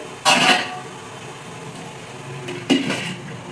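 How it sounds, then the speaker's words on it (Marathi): A metal sieve of amla set into an idli cooker for steaming, two sharp metallic clanks of pot and utensil contact, separated by a quiet pause. "आता ही अशी चाळणी घेऊन अशी ठेवायची. मी इडलीचा कुकर घेतला आहे."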